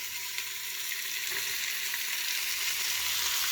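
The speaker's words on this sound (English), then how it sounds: "we're going to cook them down to the point that they get soft" Red onions fry in beef tallow, a dense, even hiss of sizzling fat heard up close and continuous throughout, with faint stirring underneath and no talk.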